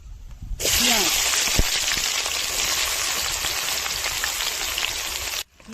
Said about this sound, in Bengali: পেঁয়াজটা দিয়ে দিয়েছি, পেঁয়াজটা আমি লাল করবো।